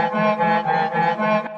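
Short FL Studio beat sample with light reverb plays by itself, several smooth rhythmic pulses at moderate volume before a quick stop.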